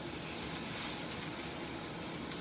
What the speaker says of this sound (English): that should sizzle right away